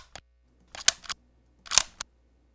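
Medieval crossbow being cocked, recorded up close for game sound effects: a few sharp mechanical clicks and ratchety clacks in separate bursts, with quiet gaps between them.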